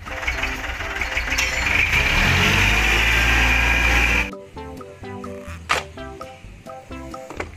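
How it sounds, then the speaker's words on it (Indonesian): A green toy sand truck gives a steady, loud engine-idling rumble for about four seconds, then cuts off abruptly into quieter, unrelated tonal sounds. "Widih, widih, dan truk pasir warna hijau."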